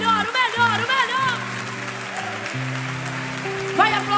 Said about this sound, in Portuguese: Dê o melhor aplauso que você puder por essas vidas